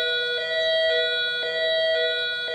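A faulty cartoon milking-time alarm keeps going off, a steady bright electronic tone stack pulsing in regular beats like a doorbell or siren, loud and continuous with no voices.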